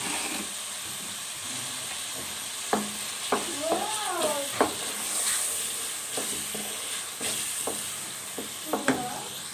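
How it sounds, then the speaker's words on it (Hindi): Tomatoes frying in a pan, a steady close sizzle and hiss with scattered spoon scrapes and clinks as they are stirred, no voices. "टमाटरों को सही से भूनेंगे।"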